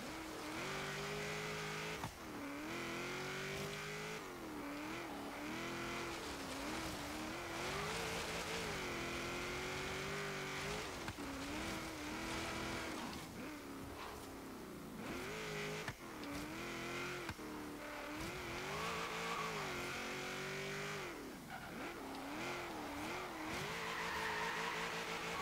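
A 1970 Chevrolet Corvette ZR-1 in Forza Horizon autocross, its rear end breaking loose: a continuous engine roar rising and falling with throttle, mixed with long tire squeals and skidding throughout, loud and sustained.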